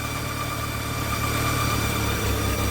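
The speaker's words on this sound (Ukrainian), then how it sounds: "двигателем трошки телепає, ну не дуже троїть" An Audi 80 engine runs rough just after starting, a steady idle drone with a slight uneven shake and no voices over it.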